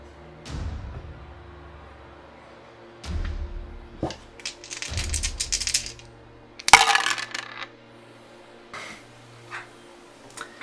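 Dice from the Elder Sign board game clatter and roll on a tabletop in several separate bursts, loud and close. One sharp crack stands out among quieter clicks and rattles, with no talking.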